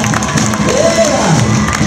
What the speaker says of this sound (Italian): Gli facciamo un applauso sportivamente.